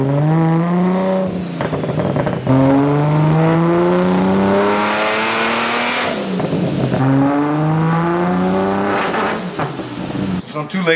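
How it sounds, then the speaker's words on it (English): Toyota Supra with a stock engine on a dyno, fitted with a 4-inch exhaust that is titanium from the mid pipe back, revving hard and very loud in repeated rising pulls with brief drops between them. "we have a full 4-inch exhaust, and from the mid pipe back, it's titanium, so it's extremely loud."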